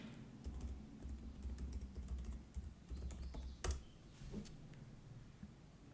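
Rapid keystrokes as a password is typed on a Mac computer keyboard during an Ubuntu installation, a close, steady run of clicks over low background hum before a louder final key press.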